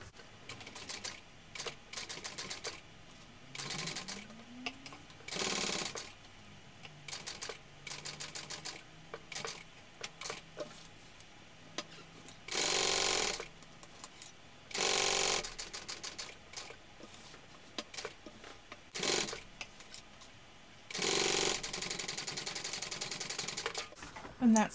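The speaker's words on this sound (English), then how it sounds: "they hold it in place while we sew it on, and we can top stitch this on." A sewing machine top-stitches a piece onto a Park Mini backpack, short bursts of rapid mechanical stitching separated by pauses, fairly close and moderately loud, with a voice talking between runs.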